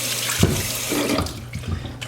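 Tap water runs steadily while an Aussiedoodle puppy is rinsed during a bath, a close, continuous splashing flow with a few brief bumps and shifts in the stream.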